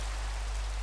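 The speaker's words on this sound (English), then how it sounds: "It's actually almost always raining." Steady rain hisses in a blocky Minecraft-style building game, a constant, even wash of noise with no breaks and no talking.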